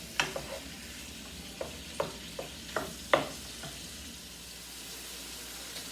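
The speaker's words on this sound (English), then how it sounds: "So the shrimp is sauteing now" Shrimp sauté quietly in a pan for spaghetti, a soft, low sizzle punctuated by several light taps and scrapes of a utensil, fairly faint and without talk.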